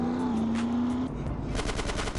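Rapid automatic gunfire in the video game GTA San Andreas, a continuous dense rattle of shots over a steady game soundscape with a held tone at the start.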